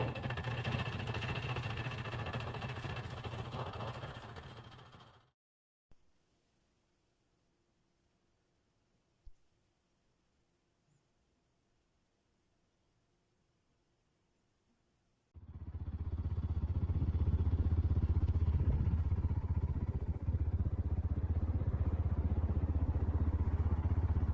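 A small motorcycle engine runs steadily up close, cuts out for about ten seconds of near silence, then roars back to life with a louder, rougher rumble.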